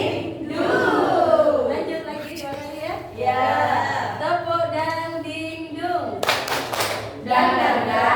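A group, children's voices among them, claps rhythmically in a clapping game during a school presentation, while chanting and talk run throughout, with a sharp loud burst of claps near the end.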